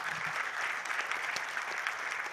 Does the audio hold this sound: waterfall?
no